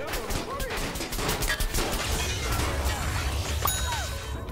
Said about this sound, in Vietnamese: Bọn này bắn súng ạ